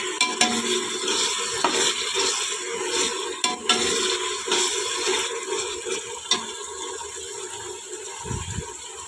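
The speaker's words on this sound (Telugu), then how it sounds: "ఈ అల్లము తెల్లగడ్డల పేస్ట్ పచ్చివాసన పోయేంత వరకు ఆయిల్లో ఫ్రై చేసుకోవాలి" Ginger garlic paste fries in oil for a boiler chicken biryani, hissing steadily while a spoon scrapes and clacks against the pan in irregular strokes. The sound is close and moderately loud.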